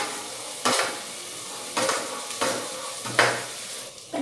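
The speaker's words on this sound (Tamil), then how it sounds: "நம்ம அரைச்சி வச்சுருக்க இந்த பூண்டு விழுது இருக்கு இல்லைங்களா, அதை வந்து இதில் சேர்த்திட்டு அதையும் வதக்கிக்கலாம்" Ground garlic paste fries and sizzles in a pan while a spoon scrapes through it in several distinct stirring strokes, with steady frying hiss underneath, close by and without voices.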